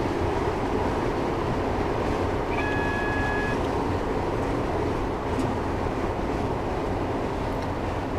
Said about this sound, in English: I'm going to apply the brakes now as we approach the next signal